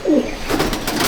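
Madrasi pigeons give a short, close coo, low and fairly loud, followed by softer throaty murmuring.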